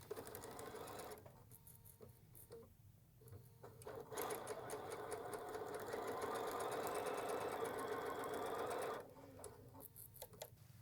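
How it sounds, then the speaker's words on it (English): A sewing machine stitches a Christmas quilt block corner to corner in a steady, fast mechanical whir that speeds up and runs for several seconds before stopping, fairly quiet and close. "I'm going to go to the machine and sew corner to corner."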